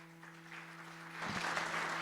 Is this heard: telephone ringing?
no